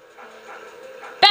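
A cartoonish dog in the Luigi's Mansion video game lets out one short, loud bark-like yelp right at the end, after a quiet stretch with a faint ambient hum.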